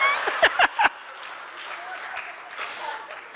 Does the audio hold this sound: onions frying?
no